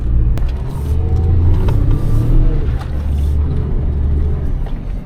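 A Suzuki Jimny JB23 with lockers and lift labors and revs in a steady low rumble, with occasional knocks and creaks as it climbs out of a berm over rough ground.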